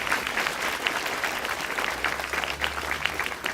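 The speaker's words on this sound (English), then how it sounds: "Let's give them another round of applause." Applause from an audience at a high school award ceremony in Oyster Bay: dense, sustained clapping from a crowd filling the room steadily throughout, with no break.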